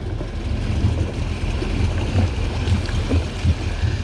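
A personal watercraft engine idles as it warms up on choppy open water, a steady low rumble mixed with wind and water wash that continues without a break.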